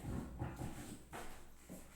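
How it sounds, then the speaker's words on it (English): A dog outside whimpers and whines in short, faint bursts, wanting to be let in, quiet and somewhat distant. "my dog just wants to come in."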